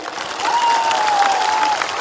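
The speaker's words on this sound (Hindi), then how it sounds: "ताली दीजिए इनको" An audience at a political rally in Tripura claps steadily throughout, a dense continuous patter of applause.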